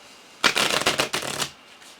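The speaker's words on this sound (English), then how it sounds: "Sorry, I already shuffled like 17 times" Playing cards are riffle-shuffled once up close, a quick crisp burst of flicking about a second long followed by a brief settle, then quiet.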